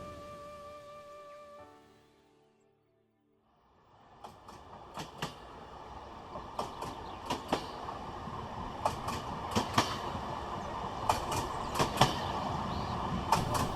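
A train rolls steadily along the rails with rhythmic clickety-clack wheel clicks building in loudness, after a brief quiet gap near the start, with no voices.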